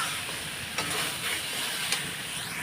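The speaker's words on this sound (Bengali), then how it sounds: "এখন আমি ডালগুলো সব ঢেলে দেবো" Lentils poured into a pan of hot fried onions give a steady bright sizzle and hiss, with two short clinks partway through and no talk.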